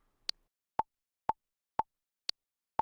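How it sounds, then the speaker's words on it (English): Logic Pro X metronome click track: six crisp, evenly spaced clicks about half a second apart, the first and fifth pitched higher as accented downbeats, alone against silence. "Let's listen to the click."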